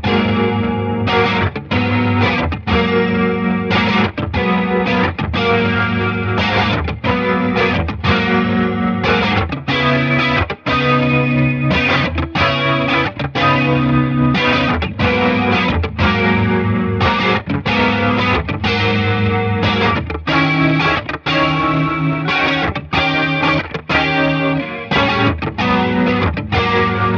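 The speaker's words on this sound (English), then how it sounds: "So now we have this nice modulated sound on the left mixed with this vibey amp tremolo on the right" Electric guitar through a TC Electronic June 60 chorus pedal blended with an amp's tremolo, playing a continuous, dense chordal passage that pulses in steady rhythmic chops, loud and up close with no voices.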